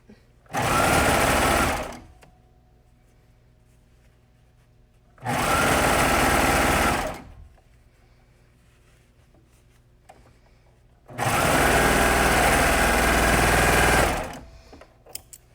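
Three loud, close bursts of a sewing machine stitching a jersey neckband onto a knit top, each lasting a second or two, separated by quiet pauses.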